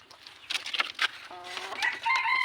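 A red junglefowl rooster crows loudly and close by, a single strained call rising and holding near the end, with brief clucking noises before it and no talk.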